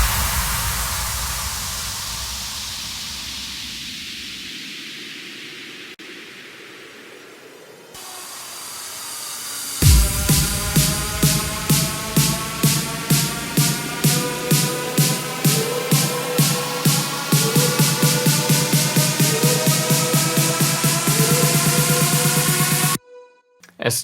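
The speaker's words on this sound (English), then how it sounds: "effect sounds, white noise sweeps to fill it up and glue it together a bit" White noise sweeps in a progressive house track rise and fall as broad hissing washes, then a rapid pulsing, gated noise pattern plays loudly and steadily for over ten seconds before cutting off abruptly.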